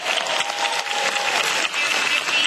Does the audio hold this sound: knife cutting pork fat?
no